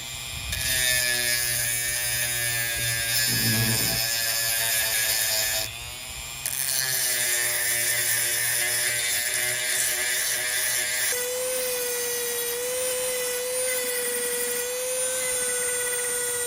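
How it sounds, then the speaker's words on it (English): A Dremel rotary tool fitted with a sandpaper wheel grinds on a rock, a steady high-pitched whine that shifts pitch a few times and dips briefly as the load changes, running loud and continuous with no talking. "Another way that we can get a window into a rock is to use sandpaper wheels on a Dremel tool."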